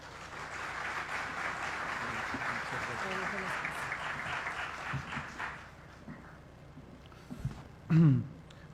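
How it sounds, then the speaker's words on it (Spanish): An audience welcomes a speaker at a talk with a strong round of applause, broad steady clapping that fades away over several seconds, followed by a brief voice and a short thump near the end. "Lo recibimos con un fuerte aplauso, por favor"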